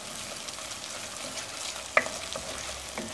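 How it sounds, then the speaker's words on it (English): Sauce being stirred and sautéed in a pan for chicken cutlet Parmesan gives a soft, quiet sizzle, with one brief utensil knock midway and no talking. "let that saute for another 2 or 3 minutes, keeping an eye on it"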